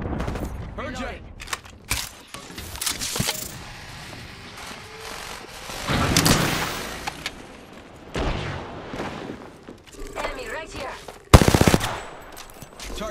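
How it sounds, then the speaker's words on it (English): Enemy gunfire in the battle royale shooter Apex Legends, rapid automatic bursts and single sharp shots in irregular clusters, some loud and close and some farther off, mixed with other game effects and brief talk. "The enemies are shooting at me."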